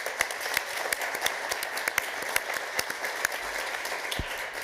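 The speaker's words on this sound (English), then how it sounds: "a big applause to Carmen, Bruce, Alessandra, and the rest of the team." An audience at a working session on healthy diets applauds the organising team, a dense, even round of clapping from a fairly large crowd with distinct individual claps cutting through, steady throughout with no talking.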